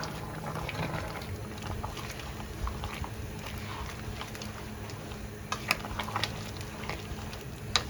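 Homemade village-style chicken curry with fresh cashews simmering in a pot, a soft steady bubbling and low sizzle with occasional faint clicks, continuous and close.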